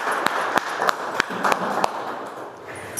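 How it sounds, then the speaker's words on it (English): An audience at a Toastmasters meeting applauds a speaker, with a few sharp, separate claps standing out over a softer bed of clapping. "Please give a big round of applause."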